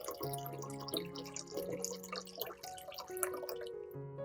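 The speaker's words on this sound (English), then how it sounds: "Pour water into a large bowl." Water poured into a large bowl, a close, bright run of splashing and dripping with shifting ringing tones, clear and uninterrupted for several seconds.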